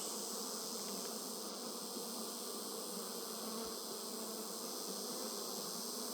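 Dense, steady buzzing of many honeybees in an open hive during a brood check, a continuous close hum with no pauses.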